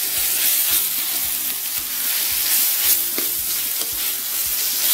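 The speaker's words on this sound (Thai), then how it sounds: "ผัดให้หมูสุกพอประมาณครับ" Pork belly stir-frying with chili paste in a pan for a Thai pumpkin curry, a dense loud sizzle with repeated spatula scrapes and stirring knocks, close and continuous, with faint background music and no talk.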